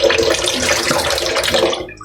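Running water splashing as fish is washed in a wok, a continuous close splattering wash that tapers off near the end.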